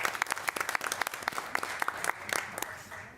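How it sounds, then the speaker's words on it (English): Audience applause welcoming a new East Middle School principal at a school board work session, a modest room of scattered individual claps rising and falling at close range, with no voices over it. "So we'll give you a round of applause"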